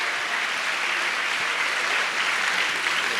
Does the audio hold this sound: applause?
yes